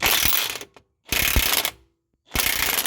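A 1,000-pound torque impact wrench hammers at a transmission mount bolt held with factory blue Loctite, firing in three loud, close bursts of rapid mechanical rattling with brief silent gaps between them.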